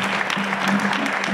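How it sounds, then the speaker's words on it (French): Audience applause after a round-table discussion, a brief burst of many hands clapping at close range, with a low hum underneath. "Vous pouvez, oui, les applaudir."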